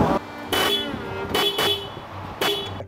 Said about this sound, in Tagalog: Pag kasi naka-interruptor relay, pag pinindot mo ng matagal, yung busina, ang magiging tunog na ganito.